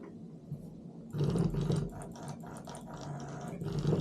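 A Simagic P-HPR haptic clutch pedal vibrates with a steady, buzzing mechanical hum. It starts after a short quiet moment and continues evenly to the end, close up and with no talking.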